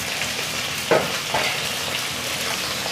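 Fish sizzles and spits steadily as it fries in an iron wok (kerahi) over a gas flame, with a continuous bright crackle and a couple of louder stirring scrapes partway through.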